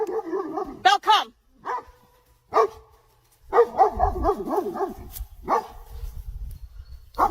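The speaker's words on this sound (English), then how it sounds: "Her dog immediately reacted, sensing the danger, prompting Tasha to start recording" A dog at a campsite barks in short, loud bursts at close range, mixed with a person's alarmed shouting and brief gaps of quiet.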